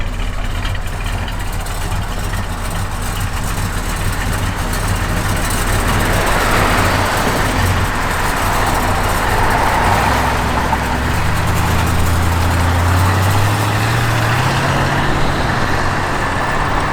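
A 1969 Plymouth Satellite convertible engine runs at a steady, rumbling idle nearby for a long stretch, then a couple of rising revs swell near the end.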